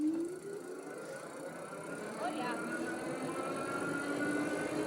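Two fat tire e-bikes, an Aventon Aventure and a Rad Power Bikes RadRover 6 Plus, accelerate together on throttle, their motors giving a steady rising electric whir over wind and tire noise for several seconds.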